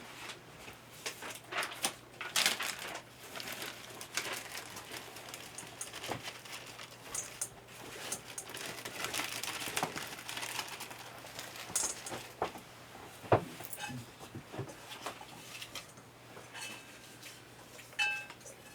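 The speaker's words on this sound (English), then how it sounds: "Sean, you may take that out and mix them up in the bowl." Small plastic or paper tokens being stirred and jostled in a bowl, a steady light clinking and pattering rattle that carries on throughout at low level with occasional sharper clicks.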